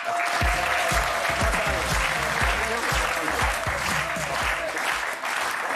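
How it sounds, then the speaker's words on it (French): A television studio audience applauds the guest Léon Deffontaines, French Communist Party candidate in the European elections, with dense, steady clapping that stays loud and even throughout, no talking. "applaudissements pour lui"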